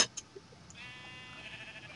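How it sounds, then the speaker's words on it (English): Video-game sheep in a Minecraft Voltz modpack let out a wavering, drawn-out bleat after a couple of short clicks, the cry holding steady and moderately loud with no talk over it. "Gotta get all the sheep back now."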